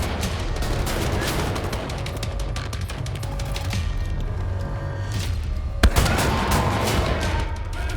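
Continuous rapid gunfire crackles and pops in a dense, loud barrage, with a sharper single blast near the end and the volume holding steady throughout.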